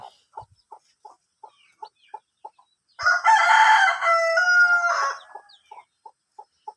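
Soft rhythmic clucking from a rooster that has molted its neck feathers, kept among hens, gives way to one loud, close, sustained crow lasting about two seconds, then the steady clucks resume.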